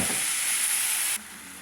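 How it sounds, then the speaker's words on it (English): Spaghetti sauce poured into browned meat in a skillet, setting off a loud, close, steady sizzle and hiss that drops abruptly to a quieter simmer near the end, with no talking. "add the spaghetti sauce into the meat"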